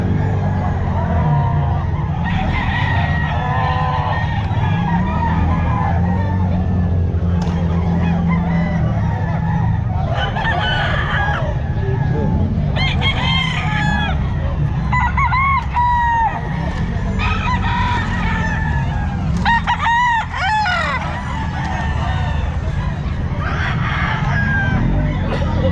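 Roosters (bull stags) at a busy pet market, crowing repeatedly and clucking over a dense crowd murmur, with voices talking in the background throughout.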